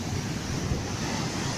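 Ocean surf at the beach sends a continuous close wash of breaking waves, mixed with steady wind rumble against the microphone.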